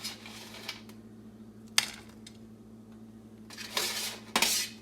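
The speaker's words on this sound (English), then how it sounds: "right now, I'm going to mix in most of these potatoes" Potatoes are mixed in a pan with a utensil, producing sporadic close clinks and scrapes against the metal, a sharp knock partway through and a louder run of scraping near the end, over a low kitchen hum.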